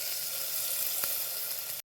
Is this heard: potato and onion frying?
yes